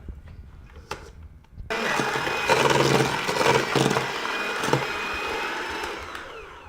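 An electric mixer creams butter and sugar for vegan cookies, starting abruptly after a few quiet knocks and whirring in a loud, steady roar with slight changes in pitch as the beaters work through the mixture.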